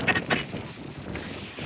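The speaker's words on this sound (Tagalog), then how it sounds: "Grabe, alakas ang hangin." Brief, steady rush of strong wind in Dingalan, Aurora, Philippines, battering the microphone, a rough low rumble with no clear voices.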